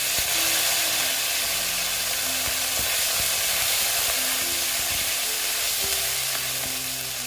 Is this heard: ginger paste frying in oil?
yes